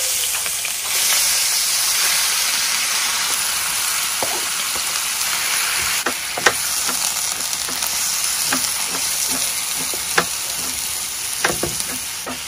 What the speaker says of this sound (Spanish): Lo vamos a sofreír aproximadamente una hora, porque la carne siempre lleva un poquito de tiempo.